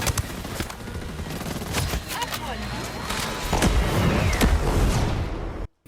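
Assault rifle fire in the PS5 video game Ghost Recon Breakpoint comes in dense, rapid bursts of shots that run almost continuously, loud and sharp, before cutting off abruptly.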